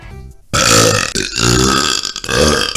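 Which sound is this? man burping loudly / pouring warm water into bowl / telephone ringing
man burping loudly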